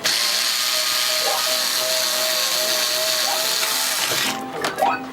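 Power driver whirs steadily at close range while backing out the side screws on an arcade CRT monitor chassis, a continuous motor tone with brief bit slips and a clunk near the end.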